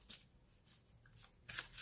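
Tarot cards shuffled by hand in several quick riffling bursts, close and fairly quiet, with short pauses between them and no talking.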